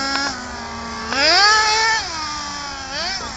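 A petrol/nitro RC Shelby Mustang GT 350 has a high, buzzing engine that holds an idle whine, then revs up sharply, drops back, and revs again in a shorter rise, loud and close.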